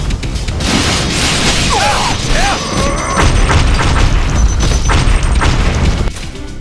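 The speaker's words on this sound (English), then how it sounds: "it's distracting how many grenades these enemies throw and how often they throw it" Frag grenades thrown by enemies burst in Ninja Gaiden 3 Razor's Edge, loud and continuous combat booms and crashes layered with clashing effects and brief whooshing tones, with no pause across the span.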